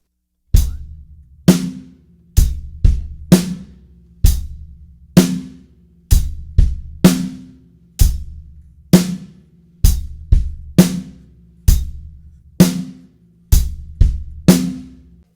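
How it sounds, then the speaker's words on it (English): Beginner drum kit groove with bass drum, snare on beats two and four, and steady hi-hat, played alone in an even, repeating rhythm, close and clear. "Lastly, we're going to add the snare drum with our left hand."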